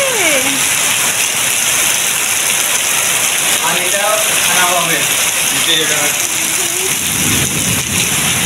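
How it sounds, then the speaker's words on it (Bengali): Heavy rain pours down steadily in a storm, a dense continuous hiss close by and loud throughout, with a voice speaking faintly under it. "কত বৃষ্টি হচ্ছে রে।"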